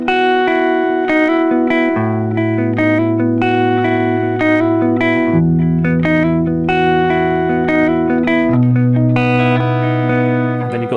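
Electric guitar plays verse 2 of a song through an effects unit with chorus and distortion, sustained notes and shifting bass-register chords ringing steadily and loud for the whole passage.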